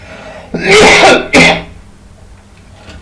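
A rough, lingering cough from a person with diabetes, followed by a short throat-clearing burst, close and loud, then quiet room tone.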